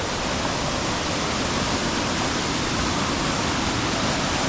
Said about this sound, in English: that's the main waterfall, Indian Flats